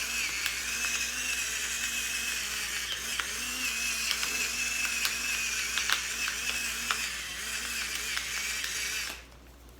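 Black pepper being ground in a mill gives a continuous gritty ratcheting crunch with small regular clicks, close and steady for several seconds before stopping abruptly.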